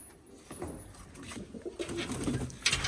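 Pigeons coo softly and repeatedly at a rural farmyard, a steady low burbling over faint outdoor background noise, with no speech.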